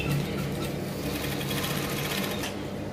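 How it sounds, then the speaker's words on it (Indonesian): A sewing machine stitches the waist seam of a party gown, a steady, fast mechanical whirring and needle chatter running loud and close throughout. "Nah, kita udah tinggal jahit aja langsung."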